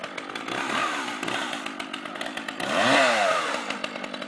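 A chainsaw runs steadily close by outdoors in Dinnington, a loud buzzing whine that rises in pitch as it revs near the end.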